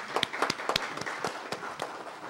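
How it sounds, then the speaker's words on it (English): Audience applause at a city council meeting, a short run of sharp, distinct claps from a few people, close and fairly loud, lasting only a couple of seconds. "Please give them a round of applause,"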